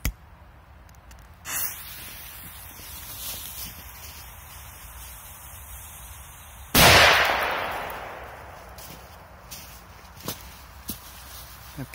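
A single P-23 firecracker goes off outdoors with one sharp, very loud bang, followed by a decaying rumble lasting a couple of seconds, with only faint small noises before and after.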